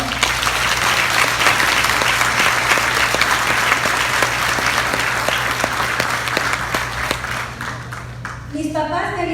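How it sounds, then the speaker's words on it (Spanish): Church congregation applauds during a Spanish-language testimony service, sustained loud clapping filling the room for several seconds before tapering off as a voice begins speaking at the end. "Un aplauso al Señor"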